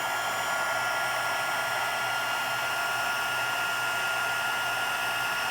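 A heat tool melts clear embossing powder on a handmade card, giving a loud, constant blowing whir with an even, unbroken hiss from start to finish. No voices.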